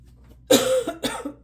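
Someone close by clears their throat with a rough burst followed by a couple of smaller hacking sounds.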